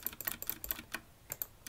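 Quick, close clicks of a computer keyboard used as a controller for a Nintendo Switch through an adapter, a fast irregular burst of keystrokes, a short pause, then a few more taps, quiet and with no voices.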